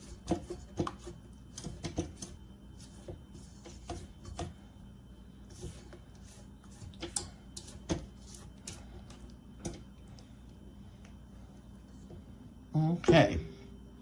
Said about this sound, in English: I am going to scrape down the sides before I add the rest of the flour